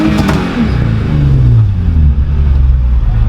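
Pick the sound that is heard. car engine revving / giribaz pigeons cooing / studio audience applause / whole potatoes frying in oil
car engine revving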